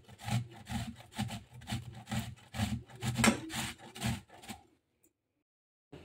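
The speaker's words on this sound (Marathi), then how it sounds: "एक बघा हा मोठा कांदा घेतलेला आहे, तो देखील आपल्याला किसून घ्यायचा आहे।" A large onion rubbed against a hand grater into grated cucumber, giving a rhythmic series of rasping scrapes, about a dozen close strokes, that stop abruptly into near silence.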